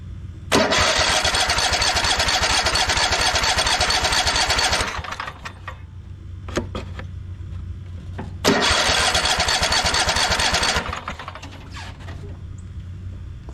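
A Craftsman T240 riding mower engine is cranked with choke on: two long stretches of loud, whirring starter cranking, each ending without the engine running, separated by quieter mechanical clicks and idle background noise.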